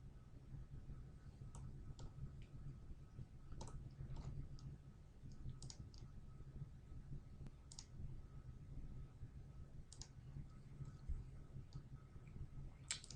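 Computer mouse clicking while selecting edges in Autodesk Inventor Freeform: faint, scattered light clicks at irregular intervals over a low, steady background hum.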